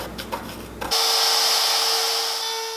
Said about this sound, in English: This was my first time trying out a palm router